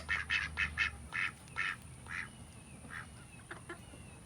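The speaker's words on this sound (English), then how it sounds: "We gotta go feed the ducks." Ducks quack in a noisy run of short nasal calls, a quick burst of several at the start, then scattered single quacks and a couple more near the end, fairly close with no talking.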